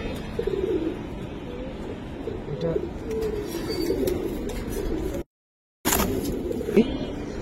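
Giribaz pigeons cooing in a loft, repeated low throaty coos from several birds close by over a steady background hum, with a brief silent gap near the end.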